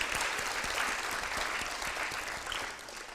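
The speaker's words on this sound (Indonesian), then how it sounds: "Tepuk tangan sekali lagi." Studio audience on an Indonesian television talk show claps steadily, a dense, fairly close wash of applause holding for several seconds before easing slightly near the end.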